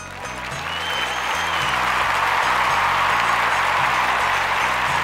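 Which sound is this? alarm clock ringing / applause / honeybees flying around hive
applause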